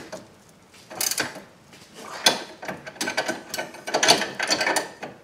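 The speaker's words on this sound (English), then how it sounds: "I trapped my ratcheting wrench." A ratcheting wrench works on a sway bar end link bolt on a 2006 Honda Ridgeline, giving close, loud bursts of quick clicking ratchet pulls in irregular strokes with short pauses between them.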